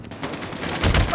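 In the Call of Duty video game, a rapid burst of gunfire rattles out close and loud, building stronger toward the end of the short clip.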